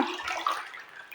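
A brief, steady gush of dirty water streaming out of a floor mop being wrung into a bucket, close and fairly loud, with no voices.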